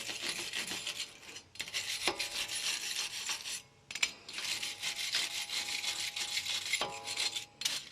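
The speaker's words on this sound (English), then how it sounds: "So kind of want to hit it with some brake clean and wipe it down." Brake cleaner hisses from a spray can in bursts onto a new StopTech brake rotor for a 2010-2014 Subaru Outback 3.6, followed by rough rubbing and wiping strokes close by, with a few short metallic clicks.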